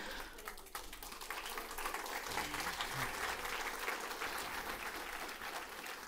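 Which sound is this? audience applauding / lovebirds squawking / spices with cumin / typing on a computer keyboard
audience applauding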